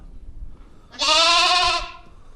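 A newborn ram lamb gives one loud, clear bleat lasting about a second, close by in a sheep pen, over faint background noise.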